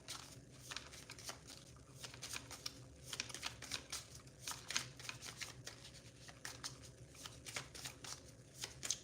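A rapid, crisp riffling of cards being shuffled, a dense flutter of small clicks that keeps going with slight pauses.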